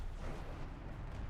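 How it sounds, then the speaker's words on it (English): Continuous low rumbling roar of an explosion in War Thunder, a World War II air combat game, steady and dense with no distinct onset, heard alone at moderate level. "That was a lovely explosion."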